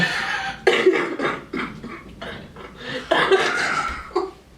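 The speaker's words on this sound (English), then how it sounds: "I gotta cough so bad." A burst of harsh coughing, several rough coughs in a row with short pauses, close and fairly loud.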